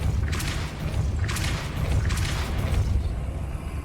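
Depulso force-push spell cast in the Hogwarts Legacy video game: several sharp whooshing bursts roughly a second apart over a steady low rumble of game ambience.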